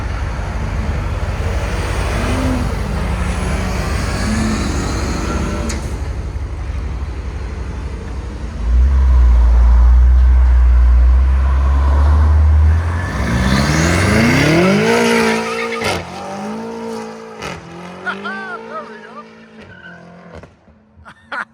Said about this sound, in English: That's what I call a clean, good driver drive off.